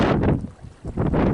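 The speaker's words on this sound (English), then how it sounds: "oh, it's super windy." Strong wind on the North Coast of California after dark buffets the microphone in rough, roaring gusts, briefly easing midway before surging back.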